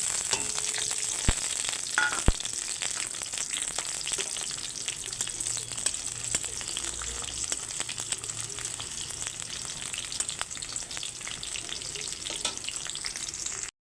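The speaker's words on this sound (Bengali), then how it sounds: "রসুনটা ভাজা ভাজা হয়ে গেছে" Chopped garlic fries in hot oil with dried red chillies in a pan, a dense continuous sizzle with scattered crackles and occasional sharp clicks of a stirring utensil, heard up close without talk.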